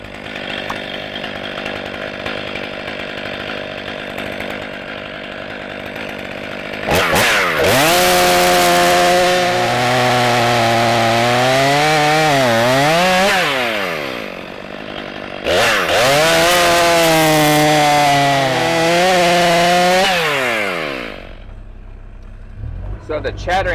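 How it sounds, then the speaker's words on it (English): Chainsaw cutting 16- to 18-inch heavy firewood rounds, loud and close, with two long sustained cutting passes whose engine pitch rises and falls as the bar bogs and recovers in the wood, separated by a lower idle. "So the chattering that you're seeing on the chainsaw"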